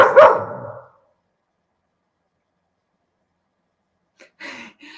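A single loud, close dog bark sounds at the start, then silence, then brief indistinct sounds near the end.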